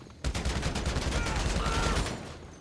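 A burst of rapid automatic gunfire in GTA Online breaks out suddenly and rattles on densely for about two seconds, loud and close, before it tapers off.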